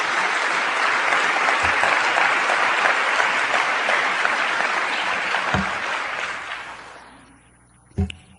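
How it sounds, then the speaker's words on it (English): A lecture audience at a talk on God, religion and atheism breaks into loud, sustained applause that fades out over about seven seconds, followed by a brief clap near the end. "was going to say hold your applause"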